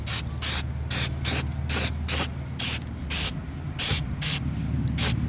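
Aerosol paint sprayed onto a steel car wheel in short bursts, about a dozen separate hissing sprays with brief pauses between them, close and clear over a low background hum.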